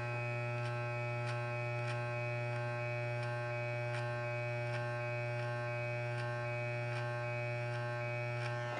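An electric hair clipper hums with a steady buzz while doing a slow self-cut undercut, with faint regular clicks as it passes through short hair, close and continuous, no voices.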